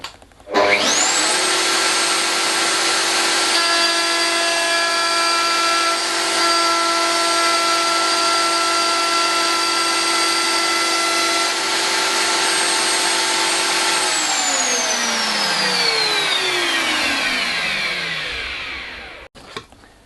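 A Route-Master router cuts an MDF workpiece with a loud, sustained high-pitched whine that holds steady for several seconds and then winds down as the motor spins to a stop, with no voices.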